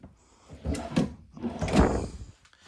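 Two drawers in a 2026 Ahara 380FL fifth-wheel RV slide open and shut in quick succession, each a rolling wooden rumble ending in a soft thud, close by.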